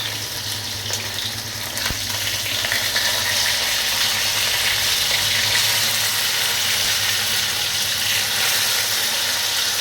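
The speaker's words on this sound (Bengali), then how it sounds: "ভাজা চলছে, মাছ ভাজা করে আবার ফিরে আসছি" Fish fries in a pan of hot oil with a loud, continuous sizzle and crackle that holds steady for about ten seconds, close and uninterrupted by speech.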